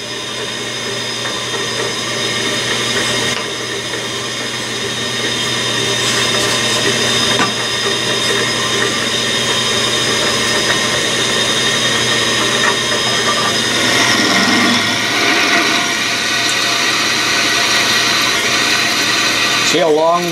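Lathe turning 1018 cold rolled steel dry without oil, a steady whirring motor hum with a scraping cutting tone that grows slightly louder partway through, with someone talking over it at times.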